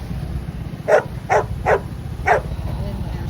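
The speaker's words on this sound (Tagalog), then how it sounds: "Ayan, may aso." A dog barks four times in a quick, evenly spaced series, moderately close, over a low rumble of background street noise.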